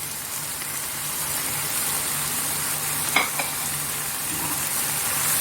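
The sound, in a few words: stir-frying caisim greens with scrambled egg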